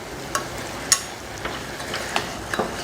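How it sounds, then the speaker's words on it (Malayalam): A spoon stirs ground masala into a vegetable kurma in a pan, giving a soft sizzling bed punctuated by a few scattered scrapes and taps of utensil against metal, close and fairly quiet. "അപ്പോൾ മസാല നമുക്കൊന്ന് മിക്സ് ചെയ്യാം."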